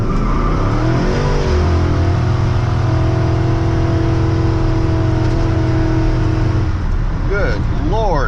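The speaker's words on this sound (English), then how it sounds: "It smoked the tires." An LS-swapped square body truck does a tire burnout: the engine climbs to a loud sustained howl for several seconds, then drops away, with a brief voice near the end.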